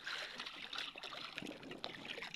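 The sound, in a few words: splashing water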